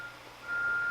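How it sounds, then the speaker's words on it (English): Single high, steady electronic beep from a reversing vehicle, faint and distant, emerging midway over a low background hum without talk. "sorry for the beeping sound"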